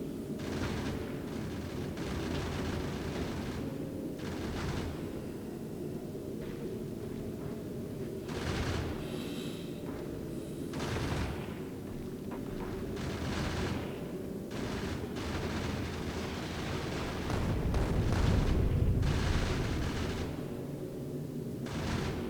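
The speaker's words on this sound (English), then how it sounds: "So 3 rockets is what it sounds like. Yep, 3 rockets to do an asteroid." Explosive rockets fired from a spaceship striking an asteroid in Factorio Space Age, a steady stream of repeated muffled blasts and thuds over a continuous mechanical hum, with a heavier burst of impacts late on.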